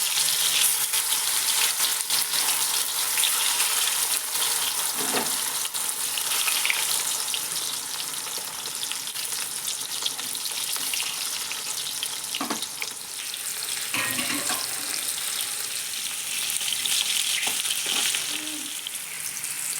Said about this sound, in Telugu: ఆయిల్ బాగా హీట్ అయిన తర్వాత కాకరకాయలు వేసుకొని